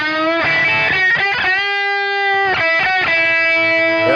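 Reeves Gabrels Spacehawk electric guitar played through distortion, loud sustained chords and notes with gritty harmonics, struck in bursts with a ringing held chord in the middle.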